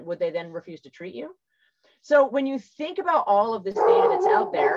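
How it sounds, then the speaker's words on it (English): Dogs bark and whimper in the background of a home while someone speaks over them, short yips mixed under steady talk. "I apologize for my dogs in the background."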